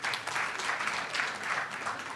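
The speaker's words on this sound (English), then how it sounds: "A round of applause for them" A workshop audience applauds panel members, a steady, dense wash of many hands clapping that holds at even strength from start to finish, with no voices over it.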